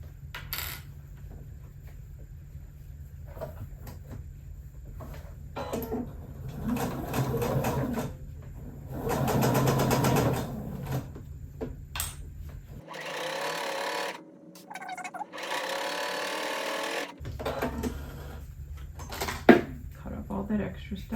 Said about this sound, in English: now I'm just going to sew right down here, 1/4 inch seam, catching all these layers